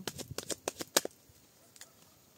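A deck of tarot cards being shuffled and cut, a quick run of close crisp riffling snaps that stops after about a second, followed by a faint tap in near silence.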